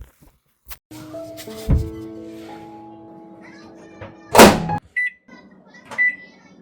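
A microwave oven hums steadily between sharp thunks of its door opening and closing, with a loud clunk and a couple of short beeps near the end.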